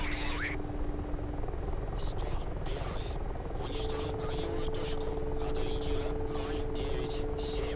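A Mi-24 helicopter in the flight simulator DCS: World drones steadily with a constant rotor and engine whine, while someone talks over it and faint cockpit tones sound in the background.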